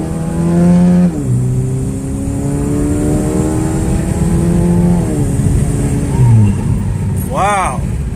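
Second-generation Chevrolet Cruze fitted with a TD025S hybrid turbo accelerates hard, its engine revving loudly and climbing through several gear changes in a close, continuous roar. A voice is heard briefly near the end.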